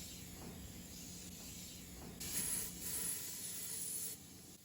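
Compressed air blown into a powder coating container gives a faint, steady hiss that grows slightly louder for about two seconds in the middle before dying back down.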